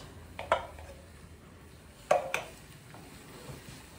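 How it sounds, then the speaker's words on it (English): Drained canned black beans go into a pot for vegan chili pasta, giving two sharp metallic clanks and a soft wet plop at close range, with faint kitchen clatter in between. "Get those black beans in there."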